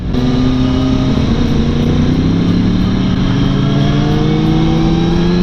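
A Yamaha MT-10 (FZ-10) motorcycle accelerating hard, its engine a loud, steady, close roar with the pitch rising smoothly throughout, with no talk over it.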